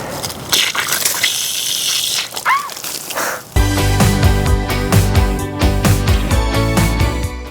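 Water from a gravity-fed pasture supply gushes out of a pipe in a loud, steady rush, joined midway by a rattling, ringing flow as the stream continues.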